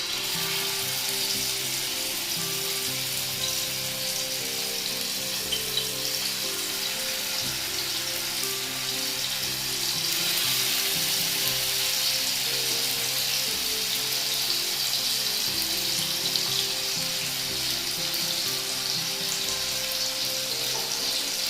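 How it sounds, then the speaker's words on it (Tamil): Marinated chicken fries in hot oil for a stone-roast style dish, giving a constant, even sizzle and bubbling that holds at a moderate level for the whole stretch, with no voices. "நம்ம மேரினேட் பண்ணி வச்ச சிக்கனை அப்படியே ஒன்றா போட்டுருவோம்."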